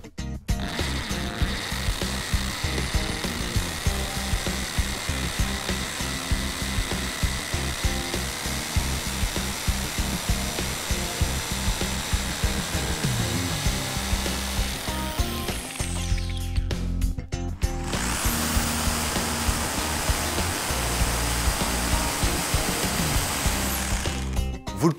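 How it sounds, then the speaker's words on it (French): Two 1010 W drills fitted with 10 mm bits bore into the same concrete block one after the other, a loud continuous grinding whine with rapid hammering pulses, cutting out briefly before the second machine starts up, harsher and brighter. "Je vais percer le même support en béton et mesurer le temps de perçage pour chacune des machines"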